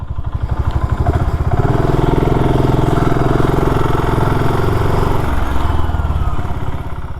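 A BSA Gold Star 650 retro motorcycle being ridden, its single-cylinder engine thumping loud and close in a steady, throbbing beat throughout.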